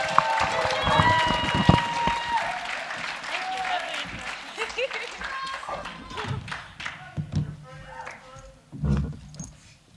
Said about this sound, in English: Let's give her the round of applause.